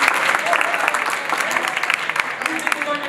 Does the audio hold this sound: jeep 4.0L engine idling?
no